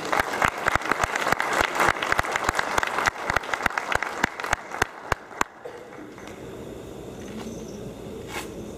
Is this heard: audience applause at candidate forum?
yes